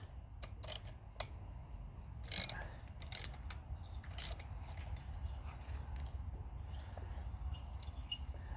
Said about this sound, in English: Try to loosen up these nuts.